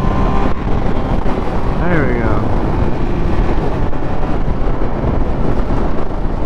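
Small motorcycle engine droning steadily while riding on a cold, cloudy road, loud and continuous with heavy wind rush over the microphone and a brief rising whine partway through.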